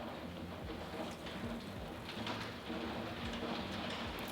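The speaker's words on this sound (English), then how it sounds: "because it's raining and it's not nice" Steady rain falls outside, a faint, even patter under soft background noise, with a few scattered bird calls and no speech.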